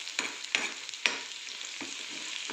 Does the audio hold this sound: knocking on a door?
no